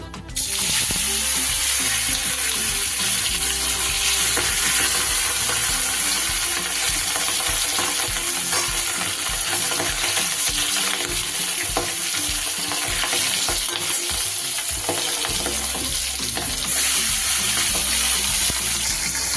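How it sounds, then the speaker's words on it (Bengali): Steady, loud sizzling and crackling of fish frying in hot oil in a wok goes on throughout, with occasional stirring and no voices. "এবার মাছগুলো আমি সুন্দরভাবে ভেজে নেব।"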